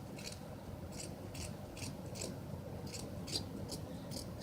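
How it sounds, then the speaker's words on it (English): Scissors snip through wool fabric for a large dreadlock bead, about ten crisp, evenly spaced cuts close up in a quiet room. "I'm just going to cut some of this fabric here."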